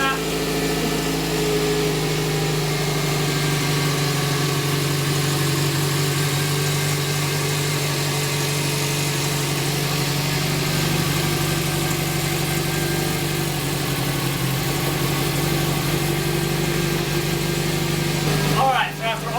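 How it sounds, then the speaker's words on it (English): Subaru WRX engine idling steadily on its first start after a clutch swap, a constant, fairly close mechanical hum and vibration running throughout, with a short burst of other noise near the very end. "we got the car started for its first start"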